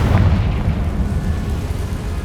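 A Confringo blasting spell in Hogwarts Legacy bursts into a deep, rumbling explosion, loud at the start and then tailing off into a sustained low boom.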